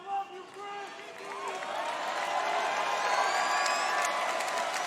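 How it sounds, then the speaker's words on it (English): A large wrestling arena crowd cheers and roars, swelling steadily into a sustained wall of noise after a wrestler's brief spoken words at the start. "And you're cheering right now because you all have felt that."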